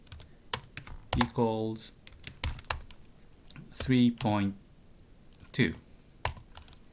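Code typed on a computer keyboard, with sharp individual keystrokes and short bursts of taps spread between a man's spoken phrases, close and clear.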